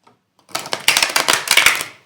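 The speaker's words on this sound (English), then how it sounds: "Those cards are huge, by the way. It is really difficult to shuffle them." Someone shuffles a deck of oversized tarot cards, giving a near, loud burst of rapid papery flutters and slaps after a short silence, then a quick fade.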